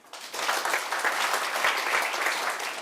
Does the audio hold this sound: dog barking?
no